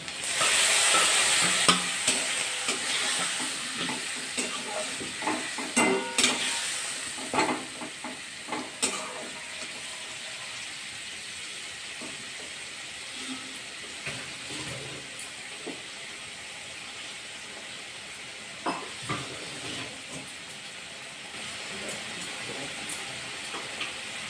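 Spice-rinse water poured into a hot pan of Bengali egg curry sets off a loud hiss and sizzle, then settles into steady frying with occasional stirring scrapes over about twenty seconds, close up and without talk.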